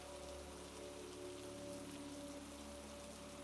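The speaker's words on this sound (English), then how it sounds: "The rain settled in around them." Rain falling steadily on a surface near a cozy cabin, a soft continuous patter that stays even and faint from start to finish, with no voices.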